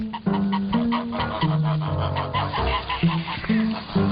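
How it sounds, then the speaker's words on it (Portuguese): Geese being driven to market honk loudly and repeatedly in a close, noisy flock, their nasal calls overlapping with cackling fowl sounds. "E os gansos eram levados para o mercado."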